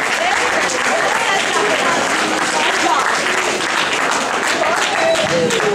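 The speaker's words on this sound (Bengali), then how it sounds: "এটা পুরোপুরি ওদের প্রাপ্য হাততালি" An audience at a Durga Utsav celebration in Cincinnati applauds a children's stage play, a steady wash of many hands clapping in a hall with voices talking through it.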